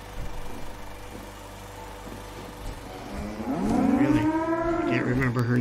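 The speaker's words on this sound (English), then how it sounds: "Brahmin mooing." Brahmin cow lowing in a Fallout video game, drawn-out bellowing moos rising and falling in pitch over a steady game ambience and low rumble, loud and close in the second half.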